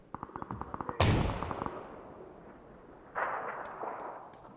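A sharp video game gunshot bursts out after a quick run of faint clicks, then a second distant shot echoes, leaving a ringing tail.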